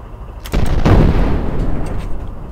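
A tank cannon fires in a video game, one loud booming blast that rumbles and fades over about two seconds, with no talk over it.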